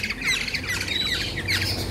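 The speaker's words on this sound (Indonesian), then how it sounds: "kenapa kok saya piara burung kepodang sebanyak ini" Black-naped oriole (kepodang) giving a rapid series of harsh, high squawks and whistled notes, fairly close and steady over a low background hum.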